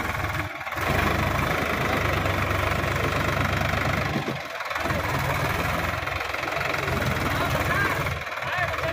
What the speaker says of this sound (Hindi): ट्रैक्टर पूरे जोर लगा रहा है भाई